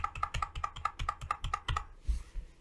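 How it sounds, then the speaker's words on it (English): Rapid typing on a computer keyboard, with about ten quick, evenly spaced key presses in a close, clear row, followed by a heavier final tap. "Now I'm going to type in 10 zeros."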